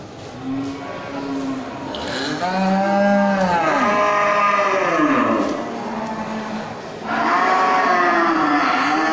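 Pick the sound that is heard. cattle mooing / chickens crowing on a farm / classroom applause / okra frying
cattle mooing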